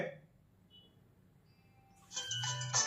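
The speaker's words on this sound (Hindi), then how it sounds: "वॉच में रिंगटोन प्ले हो रही है और वॉच वाइब्रेट भी कर रही है" A smartwatch, the Dizo Watch D Ultra, plays its incoming-call ringtone: a quiet tonal lead-in, then a brighter, louder chiming melody rising over the last second.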